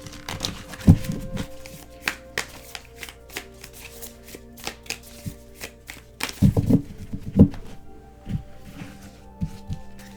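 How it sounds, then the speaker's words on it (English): Tarot cards are shuffled by hand at close range, making a run of crisp riffling slaps and soft taps with louder bursts in the middle, heard alone without talk. "So we're going to go ahead and shuffle the tarot first."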